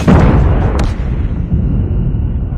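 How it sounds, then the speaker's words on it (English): Enemy airstrike explosion in a battle royale video game: a heavy, muffled boom with a low rumbling tail that fades over a couple of seconds, no speech. "Enemy airstrike incoming."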